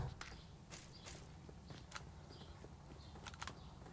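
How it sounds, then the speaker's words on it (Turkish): Footsteps outside in the mobile game PUBG Mobile, a series of soft, fairly faint steps in an irregular walking rhythm over a quiet background. "Ayak sesi var hala var dışarıda"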